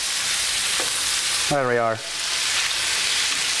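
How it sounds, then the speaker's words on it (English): Stew in a pot at a firehouse kitchen sizzles steadily after about two cups of chicken broth go in, a continuous frying hiss throughout, with one brief spoken remark partway through. "That's a nice sizzle there."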